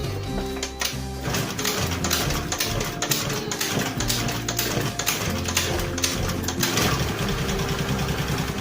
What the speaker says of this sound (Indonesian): Jadi kita mau mendengar dulu suara mesinnya seperti apa setelah penggantian beberapa spare part ya